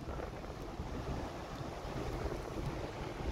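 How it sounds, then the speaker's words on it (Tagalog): Strong floodwater gushes and roars along the swollen Surigao River in Surigao City, a steady, loud rushing wash with wind buffeting the microphone and no voices. "dyan ang buga ng tubig."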